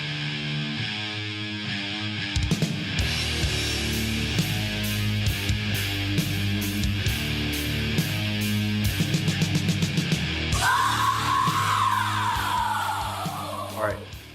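A doomy death metal riff: heavy distorted guitars chug with pounding drums in a steady rhythm, then a harsh scream rises over the band near the end.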